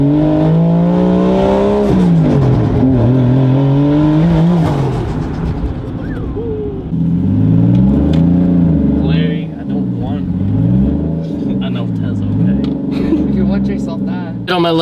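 A right-hand drive car accelerates hard, its engine revving up through rising, falling pitch sweeps and gear changes, loud and close from inside, with brief speech at moments.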